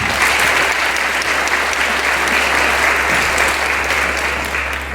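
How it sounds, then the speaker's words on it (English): Steady, full applause from an audience at a school valedictory prize-giving, a continuous wash of many hands clapping, loud and even throughout with a low hum beneath. "Can you please give them a round of applause?"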